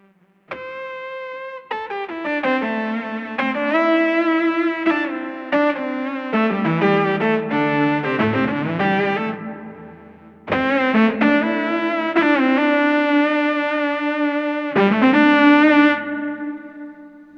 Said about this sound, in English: And then here's with the chroma console.